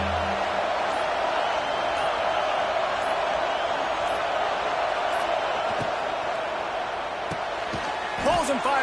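A stadium crowd in an NCAA college football video game produces a steady, loud wash of cheering and noise, with a few thuds and a brief sharp squeak near the end, while a commentator talks over it.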